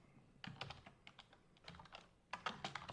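Computer keyboard typing in short bursts of close, crisp keystrokes with brief pauses between, fairly quiet, while entering a command-line instruction.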